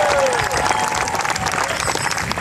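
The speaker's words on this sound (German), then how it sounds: "einen besonderen Applaus möchten wir hier haben" Audience applause and crowd cheering fill an outdoor show event, a dense steady clatter of clapping with a brief whistle at the start.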